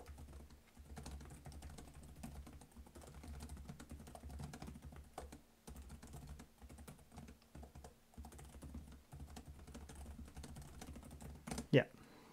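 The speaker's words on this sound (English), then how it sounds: "So let's just do the quick typing test here." Rapid, steady clatter of keys being typed on a 2024 Lenovo LOQ 15-inch laptop keyboard, soft and close, with a brief louder knock near the end.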